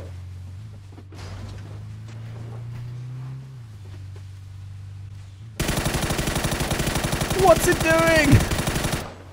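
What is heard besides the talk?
suppressed Mutant rifle gunfire in PUBG video game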